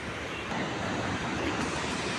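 Sea waves on the Visakhapatnam coast near RK Beach make a steady, loud, broadband roar of surf with no breaks and no voices.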